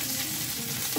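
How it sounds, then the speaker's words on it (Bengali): Chopped garlic and onion fry in hot oil with a dense, even sizzle that stays steady and close throughout the short stretch, no talking. "রসুন কুচি আর পেঁয়াজ কুচি দিলাম"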